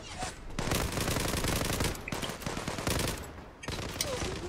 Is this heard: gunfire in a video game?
yes